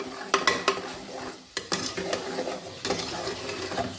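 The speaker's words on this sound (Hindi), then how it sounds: "इसको स्लो हीट पे रखते हुए इसमें अच्छी तरह से चम्मच चलाएंगे।" Spoon scraping and stirring egg, milk and bread halwa in a pan on slow heat, several sharp metallic clinks among a soft continuous sizzle, close up and without talk.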